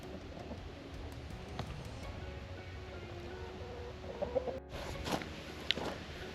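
Chickens at a backyard coop cluck and call at feeding time, a busy low-level flock sound running throughout with a brief louder burst near the end.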